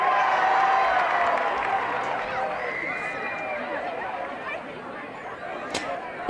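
Crowd noise from a high school football game between Legend and Pine Creek, a broad roar of cheering voices that swells at the start, then settles into steady murmur, with commentators talking over it.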